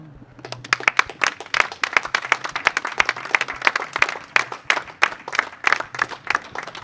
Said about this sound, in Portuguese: Um aplauso, senhor.